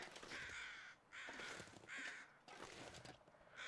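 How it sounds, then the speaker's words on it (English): Crows caw in a video game hunting scene, with four or five loud, harsh calls in a repeating rhythm and short pauses between them. "These crows are making it hard to hear anything."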